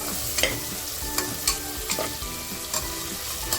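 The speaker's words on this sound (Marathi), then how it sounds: "वटाणे मी टाकेन मस्त फ्राय करेल मग वटाण्याला चांगले फ्राय करते मी" Green peas fry with chili-garlic paste in a pan, giving a continuous sizzle broken by repeated rhythmic spatula strokes and scrapes, close and moderately loud, without talk.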